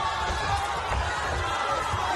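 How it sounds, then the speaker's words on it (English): Low murmuring crowd noise fills Resort World Arena during a professional boxing bout between Madars Fleminas and George Hardwick, a steady wash of voices with faint stirrings of reaction. "the crowd appreciative of the action here at the Resort World Arena"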